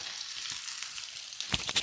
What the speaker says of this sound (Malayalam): അതിന് കടുവിട്ട് 2 കൊച്ചുള്ളിയരിഞ്ഞത്